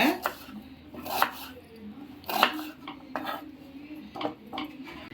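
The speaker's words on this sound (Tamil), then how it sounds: "முதல்ல 2 வெங்காயம் எடுத்து அதுலேருந்து நம்ம அரைக்கிறதுக்கு கட் பண்ணிப்போம்" A knife chops onions on a cutting board in irregular sharp taps, a few quick cuts at a time, close and clear with quiet kitchen background.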